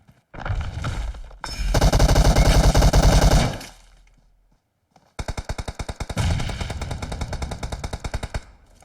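Loud automatic rifle fire in PUBG Mobile on the Erangel map, one long continuous burst, a short pause, then a rapid run of distinct close shots.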